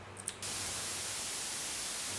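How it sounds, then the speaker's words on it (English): White noise played back from audio mixing software: a steady, loud hiss that starts abruptly after a brief quiet moment with faint clicks and holds evenly until it cuts off. "So now this is white noise."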